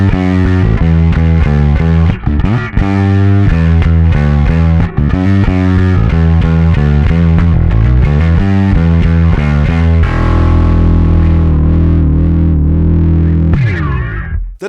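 Heavily distorted bass guitar, a Yamaha Billy Sheehan signature model run through an effects pedal, plays a driving riff; loud, dense and sustained, with chugging rhythmic notes before settling into a held, droning passage.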